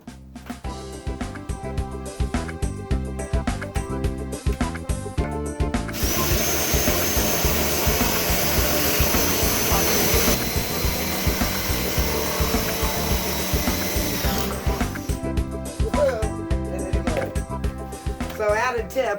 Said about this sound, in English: let's drill it again.